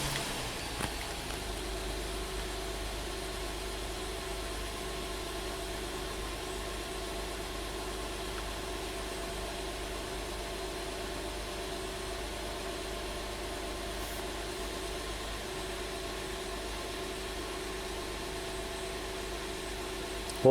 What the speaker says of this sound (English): Fire this thing up and see what happens.